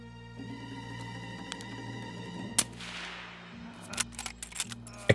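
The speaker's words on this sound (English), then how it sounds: "he might have heard the sound of my gun" A single sharp gunshot from the player's weapon in Escape from Tarkov cracks close, then a brief echoing tail fades into quieter clicks and rattles over a humming in-game ambience.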